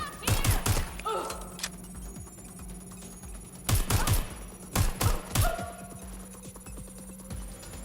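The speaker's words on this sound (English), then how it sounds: "I'm getting shot at here!" Gunfire from the video game Watch Dogs Legion: loud, close bursts of rapid shots come in clusters near the start and middle, separated by quieter stretches of background game noise.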